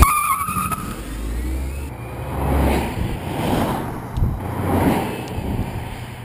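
A 1969 Volkswagen Karmann Ghia converted to electric power drives a lap, its tires squealing and scrubbing in repeated surges as it corners hard, with a faint motor whine and no voices.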